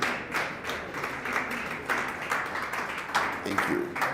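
An audience at a college launch event for an AI and robotics research center claps continuously, a moderately distant patter of many hands, with faint voices underneath.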